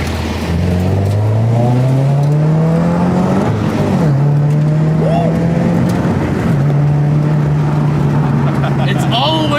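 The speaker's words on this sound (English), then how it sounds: "Let me do a second gear pull" A 2014 Subaru BRZ pulls hard through second gear, its engine note climbing steadily, dropping briefly at shifts and climbing again, loud and close inside the cabin, with occasional excited voices over it.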